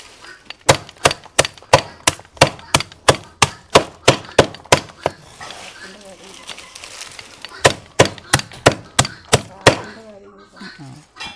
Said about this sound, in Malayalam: ഇനി അടുത്ത് നമുക്ക് പുല്ലരിയാം.